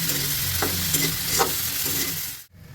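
Green banana stirred and frying in a pan with chilli, turmeric and salt, a dense close sizzle with scraping strokes, cutting off abruptly near the end.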